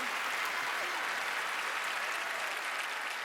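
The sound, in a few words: studio audience applause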